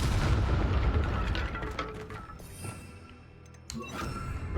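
A Depulso spell blast from the Hogwarts Legacy video game goes off as a loud, booming burst, then fades into a rumbling tail with a few softer pops and crackles.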